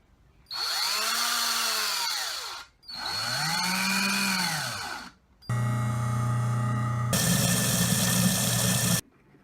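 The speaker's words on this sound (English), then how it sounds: "Got a power drill." A power drill whirs in short bursts, its pitch rising and falling as it spins up and down, then a steadier, louder motor run follows.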